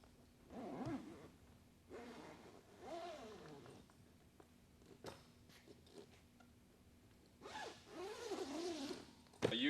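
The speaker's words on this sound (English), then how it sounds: "All you have to do is zip it up." A zipper being drawn closed on the sponson of an inflatable pontoon boat, several quiet ripping zips spaced across a fairly hushed space with faint handling noise.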